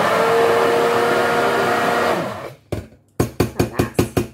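Kitchen blender whizzing mushrooms into a thick mushroom sauce, a steady loud motor drone for about two seconds that winds down, then a series of short rhythmic pulses.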